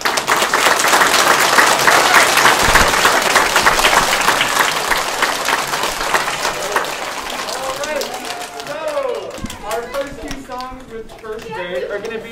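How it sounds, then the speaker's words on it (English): A concert audience at a December 2021 holiday performance claps loudly in a sustained, dense burst of applause that tapers off, and a voice begins speaking over the last few seconds. "How about a big round of applause?"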